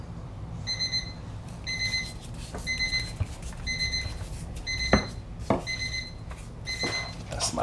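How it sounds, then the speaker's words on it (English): A cooking timer beeps in a steady repeating pattern, about seven short bursts, while a smoked turkey breast is prepared; occasional knocks and soft handling noises sit underneath. "That's my timer."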